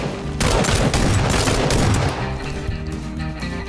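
Sustained bursts of automatic gunfire in the video game PUBG, loud and dense for about two seconds, then trailing into lighter scattered shots and echoing booms, with no talking.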